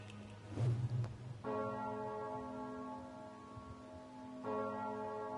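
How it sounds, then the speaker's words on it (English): Church bell chimes in the video game Trails of Cold Steel 3, two loud struck tones with long ringing overtones, the second arriving about three seconds after the first, heard alone without talk. "For whom the bell tolls."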